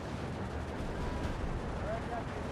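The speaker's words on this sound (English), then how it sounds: "Oh wow, heavy artillery hitting me there." Heavy artillery shells slam down on units in the World War II strategy game Steel Division 2, a dense, continuous low rumble of impacts and blasts rolling through the whole stretch.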